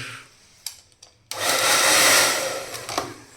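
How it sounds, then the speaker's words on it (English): A heavy-duty hair dryer in a hotel bathroom switches on with a sharp click and roars steadily and loudly, after a few faint knocks and taps. "It's heavy duty hair dryer"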